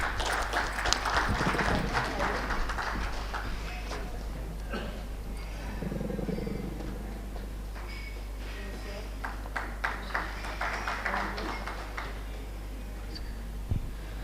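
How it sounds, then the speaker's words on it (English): Audience applause at a rail and transport infrastructure expo, a moderate patter of clapping from a seated crowd that swells and thins, mixed with some indistinct voices and a steady low hum underneath. "Can we please have a big round of applause, everyone?"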